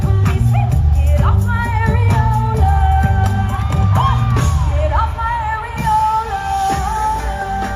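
A big music festival crowd cheers, whoops and yells loudly throughout a set, with music playing under the sustained roar and a few voices shouting out near the end.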